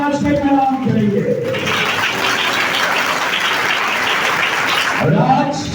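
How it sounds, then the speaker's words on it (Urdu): A church congregation bursts into loud, dense applause that fills several seconds after a pastor's sermon speech, then fades as he resumes talking. "زوردار تالیاں بجائے آج کے کلام کے لیے۔"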